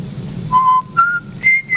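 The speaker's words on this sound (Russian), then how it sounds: "Кончай свистеть, отучать буду." A person whistles a short series of clear, rising tones, each note held briefly with gaps between, over a faint background hum.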